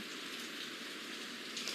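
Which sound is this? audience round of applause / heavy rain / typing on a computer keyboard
heavy rain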